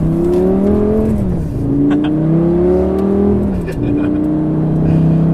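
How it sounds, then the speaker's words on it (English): A Lamborghini Gallardo sports car engine revs up through several gears, pitch rising and dropping with each shift, loud and close as from inside the vehicle. "you have to kind of just speed up and just go"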